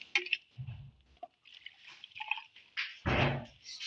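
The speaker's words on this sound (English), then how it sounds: "So I'll add my Lysol." Lysol, about 250 ml, poured from a container into a disinfectant mixture during home production of liquid disinfectant, giving short close splashing and dripping bursts with quiet gaps between them.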